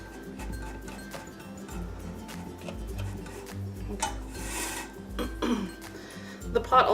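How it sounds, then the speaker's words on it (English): Metal top half of a double boiler set down inside another pot, producing light clinks and scraping metallic rubs, close and fairly quiet, with a low hum running underneath. "I'm going to take my double boiler, the top part of it. I'm just going to set this inside of here."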